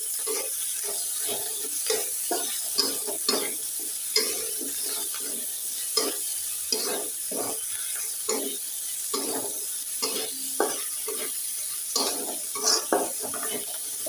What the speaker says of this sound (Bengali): চিংড়ি মাছটা ভাজা অলরেডি হয়ে গিয়েছে